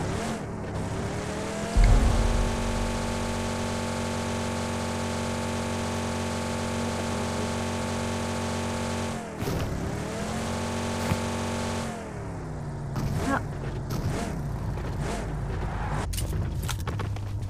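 A car drifts in a video game, its engine holding a loud, steady rev for several seconds, then dropping and climbing again, with tire squeal and scraping bursts toward the end.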